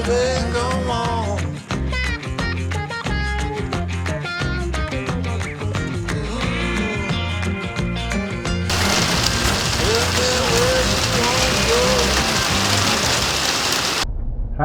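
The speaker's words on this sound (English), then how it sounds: "the rain has got here. It's just sprinkling right now." Light rain sprinkles outdoors at an off-grid homestead cabin site, a steady soft hiss of patter that starts partway through after a stretch of music and then cuts off abruptly.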